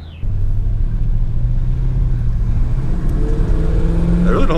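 A 1985 Chevrolet Monte Carlo with a freshly upgraded distributor runs on a test drive, its steady low engine rumble and road noise filling the cabin throughout, with a brief higher whine near the start.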